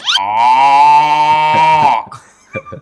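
A cow gives one long, loud, close moo lasting about two seconds, a steady drawn-out bellow that fades out, followed by brief faint rustling.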